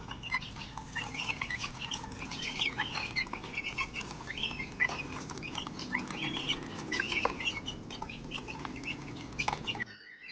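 Many backyard chicks chirp busily and continuously near feeding time, their high peeps overlapping in a dense, fairly quiet chatter with some faint farm background.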